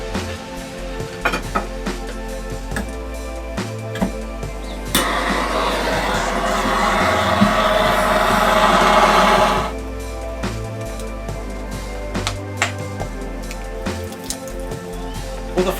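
Kindling fire built inside a wood-fired pizza oven: steady crackling and hissing hold up close throughout. A louder, dense burst of crackle swells for several seconds in the middle, then settles back to the lighter background crackle.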